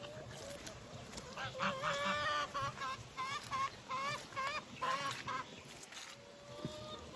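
Chickens in a winter vegetable garden cluck and squawk nearby in a run of quick, chattering calls, with a soft background hum underneath.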